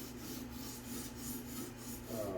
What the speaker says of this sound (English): You're grinding on burr, you're rolling it back and forth. You'll feel it under your stone.